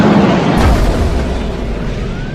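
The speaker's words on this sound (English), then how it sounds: "Mr. Dwarf, arm torpedoes. Torpedoes armed, Captain." A torpedo explosion sound effect for a direct hit in a space-battle radio-style drama: a loud, close boom that hits at once and then rumbles and decays over a couple of seconds.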